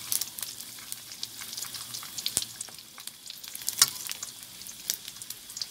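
Pork skin fries in a pan for crispy pork, giving a faint, steady sizzle with scattered sharp pops and crackles throughout.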